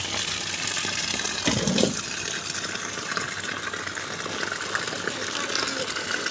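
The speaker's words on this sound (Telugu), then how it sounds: "ఇప్పుడైతే మనమైతే వాటర్ అయితే ఆన్ చేసుకోవాలి" Water runs from a turned-on supply into a tub of cattle feed for cows, making a loud, continuous close gushing and splashing that holds steady throughout, with a voice faintly mixed in.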